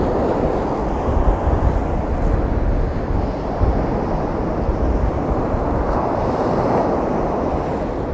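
Ocean waves rolling in and washing back out on a shore, a loud continuous surging roar with heavy wind buffeting on the microphone.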